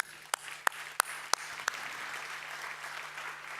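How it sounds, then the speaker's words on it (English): At a Nedbank-sponsored marketing event, five sharp claps sound in a quick even row, then a quieter, diffuse spatter of audience applause carries on to the end. "So a round of applause for our sponsors."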